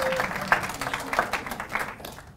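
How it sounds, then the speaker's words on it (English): An audience at a press conference for the CVX Live 2016 event claps together, a steady patter of many hands that is loud at first and thins toward the end, with no voices on top. "we should probably clap for passes too"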